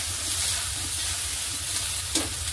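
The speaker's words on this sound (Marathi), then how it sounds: "आणि कांदा चांगला भाजून घेऊया" Onion roasting in oil in a pan, a steady close sizzle and crackle with light stirring, one sharper scrape near the end.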